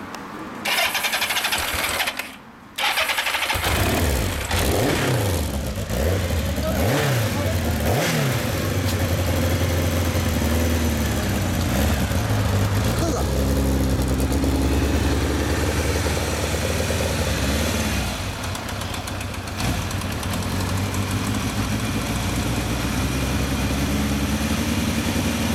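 An all-original 2000 Kawasaki Zephyr 750 engine catches and blips through several sharp revs, then settles into a steady, loud idle close by.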